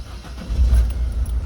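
A Citroen 1.6 HDi diesel engine with a faulty fuel injector runs close by, making a steady, low, rough rumble with slight unevenness and no voices over it.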